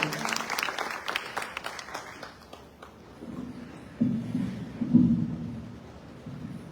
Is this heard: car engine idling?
no